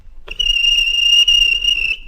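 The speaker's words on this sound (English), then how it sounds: "the fat controller climbed onto a trolley and blew the guard's whistle" A guard's whistle blown in a Roblox train game gives one long, steady, shrill tone held for nearly two seconds, loud and clear with no talking over it.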